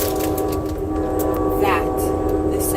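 Steady rumbling drone inside a moving passenger train, continuous and fairly loud, with a faint sliding tonal squeal partway through; a voice talks over it.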